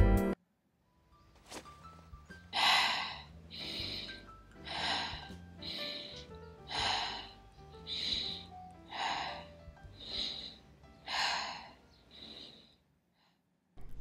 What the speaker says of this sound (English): we'll choose take 5 deep breaths